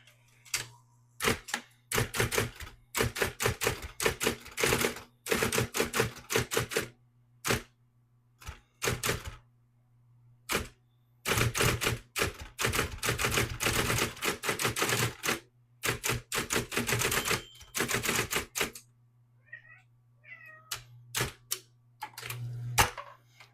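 A Brother electric typewriter types in quick bursts of sharp, clattering keystrokes with pauses between, testing a Correct-O-Ball correction cartridge, while a steady motor hum runs beneath, close and clear.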